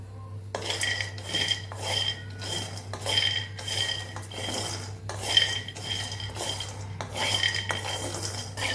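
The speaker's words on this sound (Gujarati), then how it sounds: "તો અહીં આપણે માંડવીના દાણાને શેકી લેશું" Raw peanuts dry-roast in a pan over medium gas, with a spoon or spatula scraping and rattling the nuts in a regular, close stirring rhythm. No one speaks.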